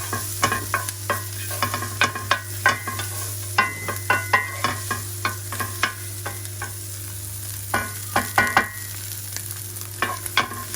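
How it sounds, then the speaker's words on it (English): Tiny cut sausage pieces frying in a hot pan, a continuous close sizzle punctuated by frequent sharp scraping and clacking strokes of a utensil stirring them, with a low steady hum underneath and no voices. "It's sizzling because the thing is hot."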